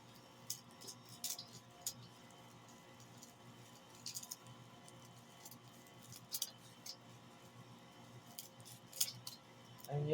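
Scissors snip through dried lemongrass in irregular bursts of crisp, close clicks and crunches, with short pauses between cuts and a quiet room behind.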